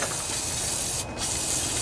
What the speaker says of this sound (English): I think I'll spray a little bit of carburetor cleaner on some of these thicker spots here.